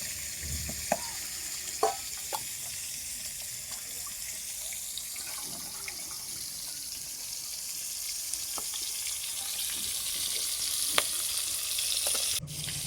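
Boal fish curry cooks in a home kitchen, giving a quiet, steady sizzle broken by occasional soft clinks and knocks of utensils.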